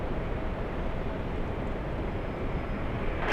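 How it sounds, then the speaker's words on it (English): An airliner at Los Angeles International Airport roars on its takeoff run, a steady, loud broadband jet engine rumble with no voices. "Alright, they are cleared for takeoff."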